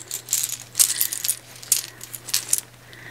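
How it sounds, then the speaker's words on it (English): A bag of buttons rattles and clicks in a few quick bursts, close and fairly loud, with short pauses in between and no talking. "There's a bag of buttons."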